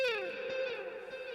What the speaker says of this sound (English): So you can hear that reverb.